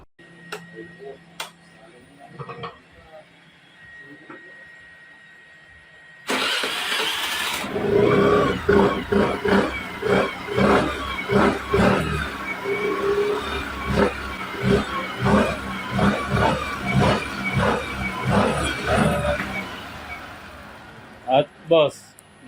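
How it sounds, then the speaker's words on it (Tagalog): A few quiet clicks, then a motorcycle engine catches and runs with a rough, pulsing idle and occasional revs, loud and close, with people talking over it in a repair shop. "pwede na nating paandarin yung motor"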